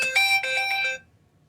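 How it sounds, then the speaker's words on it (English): A work phone rings with a bright, tonal electronic ringtone, a few quick repeating pulses close and loud, then it cuts off into near silence. "sorry, that's actually my work phone."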